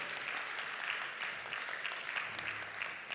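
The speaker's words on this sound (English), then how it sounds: "So can we give them a round of applause?" Audience applause in a hall at a competition grand finale, a thick, even roar of clapping hands that holds at a steady level throughout.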